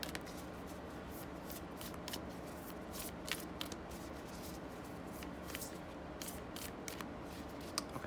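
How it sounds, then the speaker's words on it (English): A tarot deck shuffled by hand, quiet repeated riffling and flicking of cards in uneven bursts throughout, soft and close with no talking. "I'm still trying to successfully figure out how to shuffle this deck"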